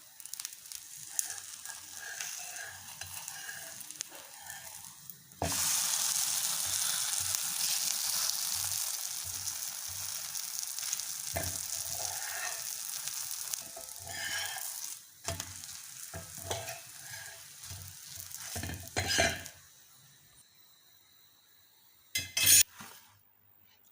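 Sweet wheat-flour dosa frying in oil, starting with quiet clinks and then a sudden loud sizzle that fades and swells across the clip, with metallic scrapes and a few sharp clinks near the end.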